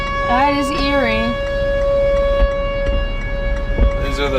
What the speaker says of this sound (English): These are the tornado sirens in the town of...